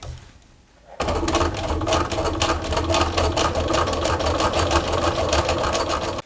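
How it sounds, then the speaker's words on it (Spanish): A sewing machine stitches patchwork fabric for a scrap-fabric basket, starting abruptly after a brief quiet moment and then running in a steady, fast, rhythmic whir close by, with no talk. "Y vamos a coser con ese margen."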